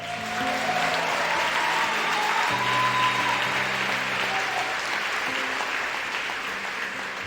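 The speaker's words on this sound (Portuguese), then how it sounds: "Você pode aplaudir o Senhor?" Church congregation applauding the Lord during a Portuguese-language worship service, a steady wash of many hands clapping at full volume throughout, with sustained organ or keyboard tones underneath.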